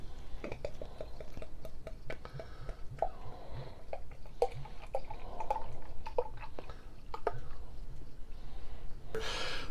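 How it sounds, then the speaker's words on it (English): A bottle of Bourbon County barrel-aged beer is opened and poured into a glass. Faint clicks and drips run throughout, and a sharper burst of hiss comes near the end. "Let's go ahead and get it open, get it in the glass"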